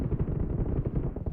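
Rapid gunfire in the mobile game PUBG Mobile, team deathmatch, a fast continuous burst of close, muffled shots lasting about a second and a half.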